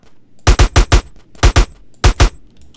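Gunfire in Grand Theft Auto San Andreas comes in sharp, loud bursts: a quick run of four shots, then two, then two more, each crack close and punchy.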